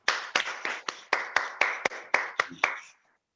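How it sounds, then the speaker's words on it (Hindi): Around ten evenly spaced hand claps ring out at a steady rhythm during an orientation training session, fairly close and crisp, ending after about three seconds with no voices. "मैं सभी के लिए चाहूंगा एक जोरदार तालियां होनी चाहिए।"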